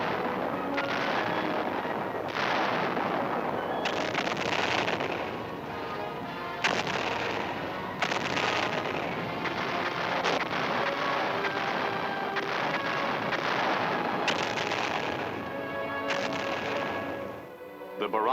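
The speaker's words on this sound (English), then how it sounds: "the communists opened fire on the offshore island of Quemoy." Sustained artillery bombardment of Quemoy island in August 1958, a dense, continuous roar of shell fire and blasts running loud throughout, with a narrating voice audible over the barrage.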